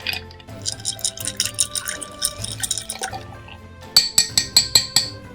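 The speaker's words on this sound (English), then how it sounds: "Now we're going to add 4 small pieces of ice. And we're going to stir until chilled." A whisky Old Fashioned cocktail is stirred with four small ice pieces, giving repeated clinks and tinkles of ice against glass, steady at first then sharper and louder near the end, with no talking.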